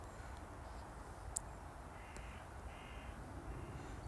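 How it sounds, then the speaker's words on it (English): Crows caw faintly in the distance in an open outdoor area at Marks Gate, London, a few scattered calls over steady background noise. "Lots of birds as well."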